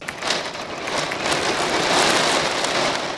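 Heavy rain pouring outside, a steady dense hiss of drops hitting surfaces that holds loud and even throughout with no talk over it.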